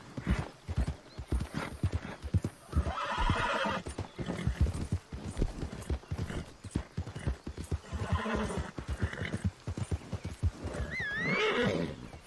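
Horse hooves clip-clop steadily in a game, a brisk continuous gallop close up, with a shrill neigh rising near the end.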